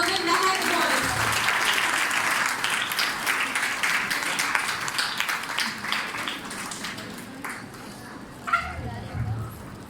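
Audience applause at a Women's Day seminar in a parish hall, a dense wash of clapping that fades gradually over about ten seconds, with voices mixed in.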